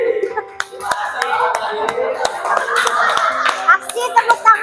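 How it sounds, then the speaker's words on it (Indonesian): A small group of students claps in a classroom teaching session, sharp individual claps in a loose rhythm, while voices chatter and call out underneath. "Aksi tepuk tangan yang kuat."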